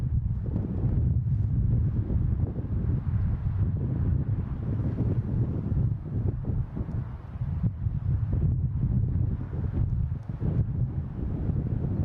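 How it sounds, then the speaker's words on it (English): Strong wind gusts roar and buffet the microphone at Boston Logan International Airport, a continuous loud low rumble that swells and dips throughout, with no talking. "Wow, the wind is kicking up here."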